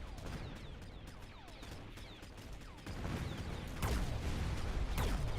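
Explosions and gunfire crackle in the Fortnite video game, a busy stream of sharp pops and bursts that grows louder and denser partway through, with two heavy booming blasts near the end.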